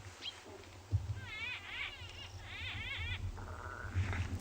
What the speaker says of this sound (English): But you can actually hear the greater blue-eareds in the background.